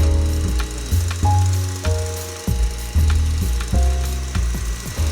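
A stand mixer whips meringue at top speed until it turns white and firm, making a loud, rhythmic mechanical churning that pulses in repeating cycles close by.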